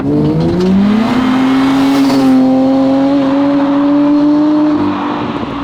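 A rebuilt front-wheel-drive car accelerates hard in first gear, its loud, close engine note climbing steadily in pitch under full throttle, with no talking.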